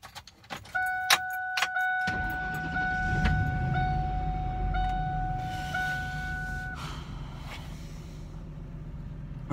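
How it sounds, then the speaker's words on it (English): A Ford F-150 cold start: keys jangle and a steady two-tone chime sounds, then the engine cranks and catches at about two seconds and settles into a deep, steady idle that continues after the chime stops. "I'll at least give y'all guys a cold start of the F-150"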